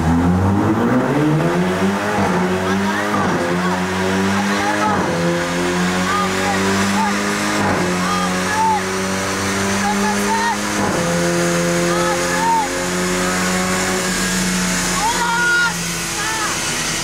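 A Jaguar car accelerates hard in a street race, revving loudly through repeated rising gear pulls with sharp shift breaks, close and powerful throughout, with voices talking faintly beneath the engine.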